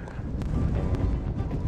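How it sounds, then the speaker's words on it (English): Wind buffets the microphone outdoors at a desert ghost town, a loud continuous low rumble with gusty thumps and no clear talk. "A lot of wind."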